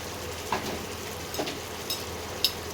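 Tomatoes and ginger paste are sautéed in a pan with a steady low sizzle, broken by a few light, scattered spatula scrapes and ticks, all fairly quiet with no voice.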